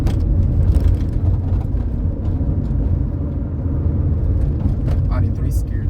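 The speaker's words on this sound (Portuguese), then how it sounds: "Deixa eu dar uma acelerada aqui" Car engine revving as the driver speeds up, a loud steady low rumble with road noise filling the cabin throughout.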